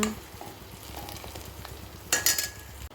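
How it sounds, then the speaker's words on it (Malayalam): Fish frying in a pan as part of a home celebration meal, a soft continuous sizzle with light stirring and scraping, then a brighter burst of crackling and a metallic clink near the end. "മീനും ഓൾമോസ്റ്റ് ഫ്രൈ ആയിക്കൊണ്ടിരിക്കുന്നു"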